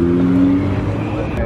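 A Dodge Hellcat spins a tire at a late-night street car meet, its engine holding a steady, loud roar as the tire screeches throughout, with people talking nearby.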